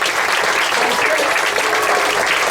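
Audience clapping steadily through a full room at a live bookstore event, a dense, continuous wash of applause close by, with some voices mixed in.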